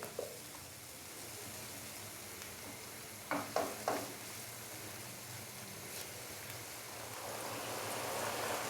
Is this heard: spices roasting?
yes